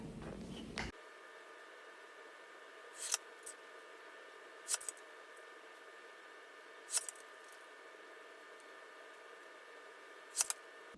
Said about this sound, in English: I'm gonna go ahead and cut out the paper things that I need to for my work marketing stuff